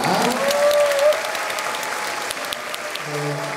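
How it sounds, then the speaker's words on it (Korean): Church congregation at a youth service applauding, a dense burst of clapping that fades over a few seconds as a voice speaks over it and music begins underneath. "김승환 목사님 나오실 때 박수 부탁드리겠습니다"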